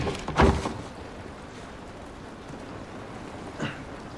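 Steady rain falls outdoors in The Last of Us, a constant soft hiss of drops on surfaces, with a loud thump near the start and another faint knock toward the end.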